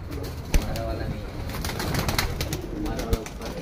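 Pigeons, including a male, coo softly nearby amid scattered clicks and light fluttering, with faint background murmur.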